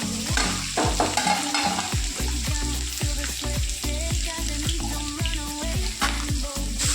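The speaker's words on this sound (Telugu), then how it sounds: "ఆయిల్ వేడెక్కాక ఈ కాకరకాయలు అన్నీ వేసుకోవాలి." Bitter gourd pieces fry in hot oil with a steady, dense sizzle while repeated stirring strokes scrape through the pan, loud and close for the whole stretch with no voices.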